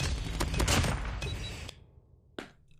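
Cordite gun fired in a video game: a dense, loud burst of rapid shots lasting under two seconds, then near silence broken by one more sharp report.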